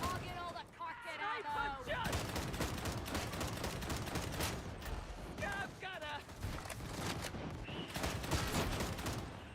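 Enemy gunner firing in Warhammer 40,000: Darktide, sustained rattling gunfire and clattering mechanisms running through the whole stretch, fairly loud and dense, with a voice speaking over parts of it.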